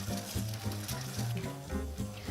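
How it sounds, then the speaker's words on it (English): An egg cooks on a TEC commercial-style flat top griddle with a moderate, steady sizzle and soft bubbling throughout, with no voices. "Cracking your egg right on the side of the grill here, and I'm going to go directly into the middle"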